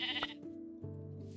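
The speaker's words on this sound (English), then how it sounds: "Lots of sheep here." Sheep in a video game, one short wavering bleat, fairly faint, heard alone without talk.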